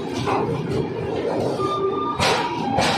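A Sambalpur–Jammu Tawi train pulls out of Jalandhar City Junction railway station, a close, continuous rolling rumble with faint squeals and a couple of sharp clanks.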